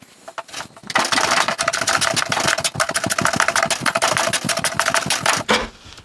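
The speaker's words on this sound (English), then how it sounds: "some of this off with the hand planer here, see how this goes" A hand planer cuts along the grain of a walnut bowtie inlay in a fast, rattling buzz. It starts up after about a second, runs loud and near for several seconds, then stops, and nobody talks.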